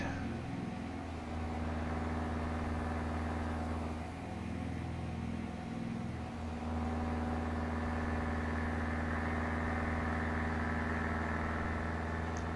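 A steady, droning truck engine from an FLX 359 in American Truck Simulator, cruising on the road from Salmon, Idaho toward Ogden, Utah, with a continuous low rumble that dips briefly and swells again, heard alone without talk.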